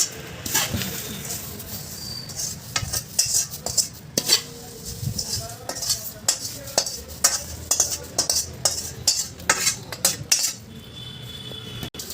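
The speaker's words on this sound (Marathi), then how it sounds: "याचं मिक्स करून घेते। हाताने मिक्स करून घेते।" Poha chivda with fried curry leaves is tossed and mixed by hand in a pan, giving a continuous dry rustling and scraping with scattered light clinks, close and busy throughout.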